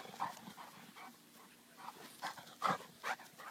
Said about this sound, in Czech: Já se bojím toho psa.